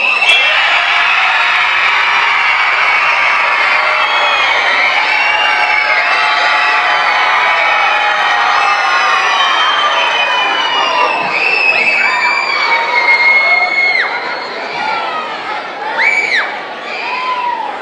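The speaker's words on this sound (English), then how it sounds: "A big stand up and applaud all these people here for standing by you and give them a big shout" A big crowd at a school academic all-stars awards evening stands, clapping and shouting, with children's high cheers and whoops rising over a long, loud roar that thins and swells near the end.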